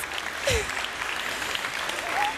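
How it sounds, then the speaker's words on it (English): Audience applause at a children's hospital telethon fills the room right after a birthday song, a steady wash of clapping with a brief shout and whistle-like cries, with some voices mixed in. "Big round of applause"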